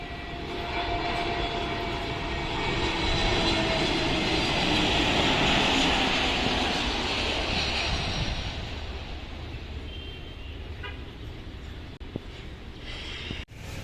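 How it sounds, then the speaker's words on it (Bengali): A white and blue Airbus A321 airliner approaches to land in Dhaka, passing low overhead with a loud, steady jet roar that swells toward the middle and slowly fades, with no voices over it. "ঢাকায় অবতরণের জন্য এগিয়ে আসছে এটি এয়ারবাস মডেলের এ থ্রি টু ওয়ান মডেলের বিমান"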